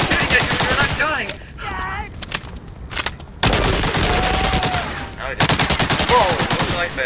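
Rapid gunfire in the PC shooter Medal of Honor: Allied Assault, loud dense bursts of shots with a short lull before another sustained volley, with game music and effects mixed in.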